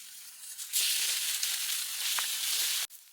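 Food cooks in a pan on a camping stove during winter car camping at -5 degrees, giving a steady, quiet, airy sizzling hiss that cuts off abruptly near the end.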